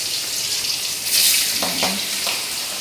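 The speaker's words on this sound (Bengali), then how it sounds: "এখন বন্ধুরা এই যে ইলিশ মাছ হলুদ মাখিয়ে এই যে কড়াইয়ে ছেড়ে দিলাম" Hilsa fish coated in turmeric sizzles in a hot wok, a steady close frying hiss that swells briefly midway, with no talking.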